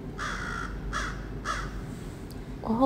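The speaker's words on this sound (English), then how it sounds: "Well, hello there, Mr. Crow." A crow caws three times in a slow, evenly spaced series, each harsh call clear and fairly close over steady background noise, with no talking.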